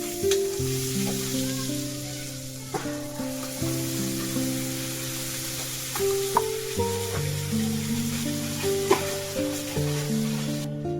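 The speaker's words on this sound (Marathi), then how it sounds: "मसाला चांगला भाजून घेऊया" Homemade ground spice masala roasting in a pan, a soft steady sizzle with occasional stirring scrapes, while a background tonal hum of music runs underneath, no one speaking.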